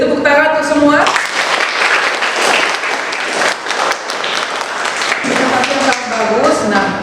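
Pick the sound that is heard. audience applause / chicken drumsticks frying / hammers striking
audience applause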